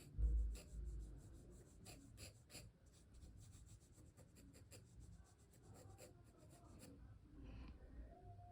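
Pencil or pen scratching across paper while a figure is drawn, a steady run of short strokes and rubs, close and quiet, with soft breathing in the background.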